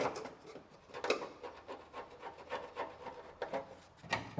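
Scraping rust and seam sealer off the seams and welds of a 1965 Mustang car body, a close rough rasping in repeated strokes, fairly quiet and steady.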